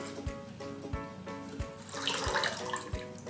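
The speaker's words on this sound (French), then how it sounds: "on va venir ajouter 600 ml d'eau" Water poured into a saucepan holding rinsed quinoa, a steady close splashing trickle with faint regular thumps beneath, swelling briefly midway, no talking.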